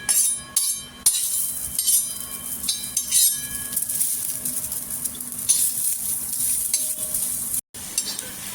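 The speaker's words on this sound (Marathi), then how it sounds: "कांदा पण छान असा भाजून घ्यायचा" Close, steady sizzling of onion frying on a tava griddle, broken by scraping stirs and a few light clinks of utensils.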